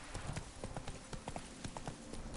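Hoofbeats of the horse Roach galloping in The Witcher 3: Wild Hunt, Blood and Wine expansion on PS4, a quick, steady clip-clop rhythm at moderate volume with no talking over it.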